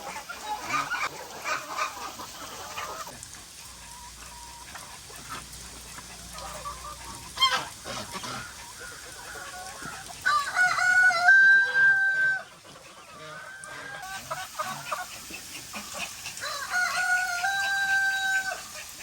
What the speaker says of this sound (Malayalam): കോഴികൾക്കും വാത്തകൾക്കും എല്ലാവർക്കും